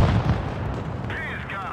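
Tank cannon fire in WOT Blitz, a deep booming blast with a rolling low rumble that decays over a second or so, loud and close, followed by a brief high whistling game tone.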